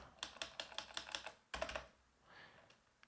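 Keys clatter on a computer keyboard in quick, uneven bursts, a run of close, soft clicks followed by a short pause and a second cluster, quiet and alone.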